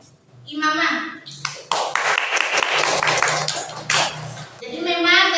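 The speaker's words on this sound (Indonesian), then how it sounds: "Kita kasih aplaus untuk imamah" Audience applause for a young woman who has just recited the Quran, broadband clapping in the middle stretch between spoken voices at either end.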